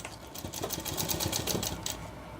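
Sewing machine stitching a shirt, with rapid rhythmic needle clatter in short bursts over a low motor hum, close and fairly loud, running for about two seconds before easing off.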